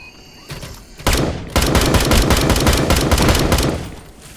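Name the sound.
gunfire in Dysterra video game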